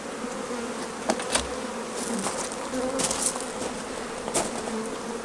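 Honey bees buzz steadily around an open beehive during a routine inspection, a dense close drone with individual insects zipping past the ear now and then, no voices.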